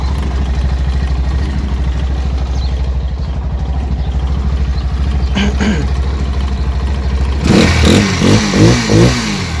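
A car engine, just repaired with a new battery and reset valve clearances, idles with a steady close rumble and then revs up in several short bursts near the end.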